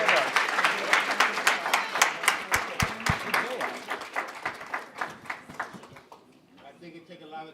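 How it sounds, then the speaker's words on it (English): A room applauds young entrepreneurs at a youth entrepreneurship panel, dense clapping that stays strong for several seconds, then thins into a few isolated claps and fades out. "Can we first give a round of applause to all of those young people who came up here today?"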